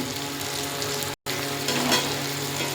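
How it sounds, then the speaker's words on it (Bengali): Ground cumin and coriander powder stirred into a ginger, garlic and chilli paste masala in a pan for a thin mutton curry, a steady close sizzle broken by one very short silent gap, with no talking. "জিরে আর ধনের গুঁড়োটা দেওয়ার পর মশলাটাকে একটু ভালো করে নেড়ে দেখুন কি সুন্দর হয়ে গেছে"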